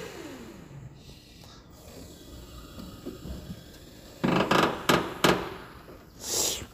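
A CRX15FL forklift with a faulty creaking noise while lowering gives a series of loud close creaking knocks and grinding bursts over a faint mechanical hum, preceded by quieter movement sounds.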